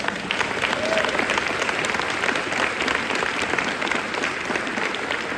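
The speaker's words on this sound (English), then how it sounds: "Give them a round of applause." A crowd applauds steadily at a high school madrigal choir's 50-year anniversary celebration, a dense even patter of many hands clapping throughout.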